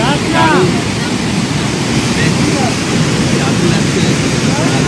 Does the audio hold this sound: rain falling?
yes